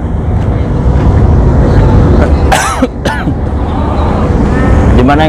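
A few sharp coughs break through midway over a loud, constant rumble of passing traffic.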